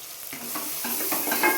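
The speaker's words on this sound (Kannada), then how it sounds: "ಟೊಮೊಟೊ ಒಂದು ಸ್ವಲ್ಪ ಫ್ರೈ ಮಾಡ್ಕೊಳ್ಳಿ" Tomatoes frying in a pan for chicken biryani, a steady close sizzle with intermittent stirring scrapes and soft clatters throughout, no voices.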